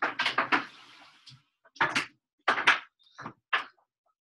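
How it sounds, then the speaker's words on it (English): A room door swung shut indoors, giving a few close, sharp knocks and thuds separated by short pauses, with no voices. "oh, let me close my door"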